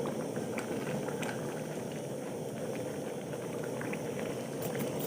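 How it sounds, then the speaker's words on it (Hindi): Pot of water with rice at a rolling boil for vegetable pulao, a soft steady bubbling hiss that stays even and fairly quiet from start to end. "ऐसा लग रहा है कि जैसे पानी में उबाल आ चुका है।"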